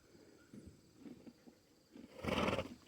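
A homestead horse gives a loud, close whinny near the end, preceded by quieter snorts and shuffling at low level.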